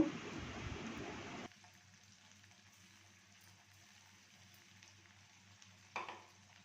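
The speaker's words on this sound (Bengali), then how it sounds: "পেঁয়াজটা একটু ভেজে নেব।" A loud burst of sizzling as a wet onion paste hits hot oil, then it suddenly drops to a quiet low crackle with one brief stir near the end.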